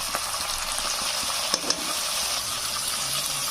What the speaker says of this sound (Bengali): মশলাটা দিয়ে দিয়েছি এবার নেড়ে ছেড়ে নেবো আমি